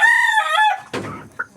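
A neighbor's rooster crows outdoors, one loud, close cock-a-doodle-doo followed by a brief throaty trailing cluck and a short chirp.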